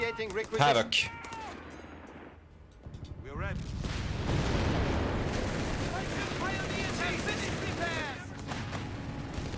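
Mortar shots and counter-barrage artillery fire from a competitive strategy game match, heavy booming impacts and rumbling barrages that fill most of the stretch, with a commentator talking over them.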